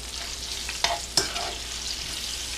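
About three sliced onions fry in vegetable oil in a heated pan, giving a continuous close hiss of sizzling with two quick spatula knocks partway through.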